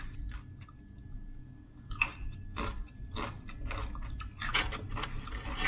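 Close, crunchy chewing and biting while tasting chipotle salsa, probably with chips, in irregular bursts of crisp crunches over a quiet background.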